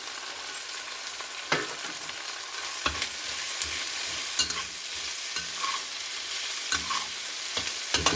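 Peppers sizzle steadily while being fried in a pan for a cashew chicken stir-fry, with soft scrapes and clicks of stirring spaced throughout, close and moderately loud, no voices.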